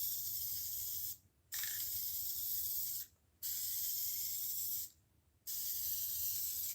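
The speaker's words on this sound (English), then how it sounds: "I just spray it lightly and let it sit for just a little bit" Tire dye sprayed onto a tire cover from an aerosol can: three loud, steady hissing bursts of roughly one and a half seconds each, separated by short pauses, close up with no talking.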